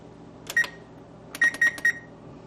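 Kitchen oven control panel beeping while being set to preheat for a prime rib: one quick double beep, then a pause and a run of three short, crisp electronic beeps close by.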